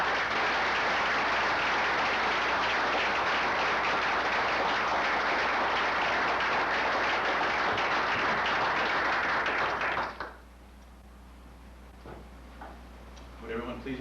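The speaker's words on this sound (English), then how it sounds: "Round of applause" Dense, loud applause fills a military retirement ceremony honouring an Air Force sergeant with a humanitarian award, sustained steadily for about ten seconds before cutting off abruptly into quiet room noise with faint stray sounds.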